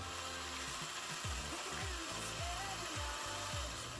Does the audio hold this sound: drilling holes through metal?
yes